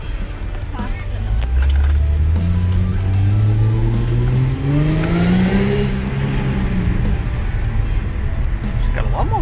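Rebuilt Cat L67 engine revving hard through its exhaust, a loud, sustained note that climbs and sweeps in pitch over several seconds, close by and continuous.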